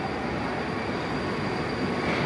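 A Moscow metro train pulls out of a brand-new underground station, a steady, dense rumble of wheels and motors filling the platform, loud and close, with no voices.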